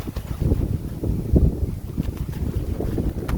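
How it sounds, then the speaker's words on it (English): Gusty wind buffets the microphone in rough, uneven low rumbles, loud and close throughout. "Sorry about the wind here."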